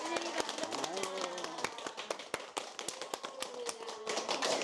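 A small group claps in a senior citizens' center, giving sparse, sharp, irregular handclaps close by while people talk over them.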